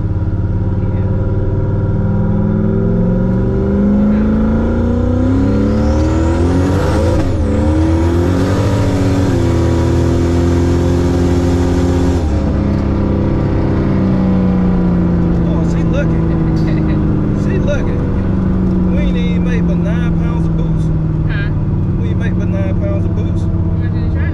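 A turbocharged Camaro engine, recently upgraded, revs and accelerates loudly throughout while driving, its pitch climbing and shifting through gears, with a strong continuous rumble and people talking over it.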